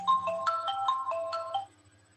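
A mobile phone ringtone plays during a lecture on basic fire safety, a bright repeating electronic melody of stepped notes lasting about a second and a half before cutting off, fairly clear in a quiet room with a faint hum underneath.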